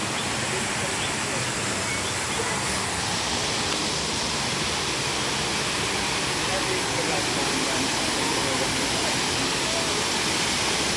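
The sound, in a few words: Paday Falls waterfall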